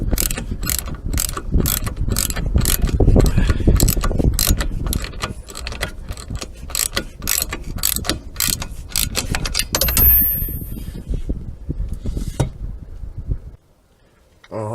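A ratchet tightens the rear wheel hub bolts on a Vauxhall Astra, with a quick, steady run of close, crisp pawl clicks that thins out partway through and ends in near silence.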